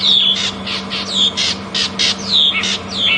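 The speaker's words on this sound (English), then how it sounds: "You can also hear a go-away bird now calling in the distance." A grey go-away bird gives a series of loud, harsh nasal calls, several in a row with short gaps, over a steady low hum, in South African bush.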